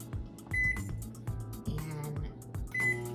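A kitchen microwave oven gives a couple of clear electronic beeps as its buttons are pressed to set popcorn mode, with clattering and handling noise around them.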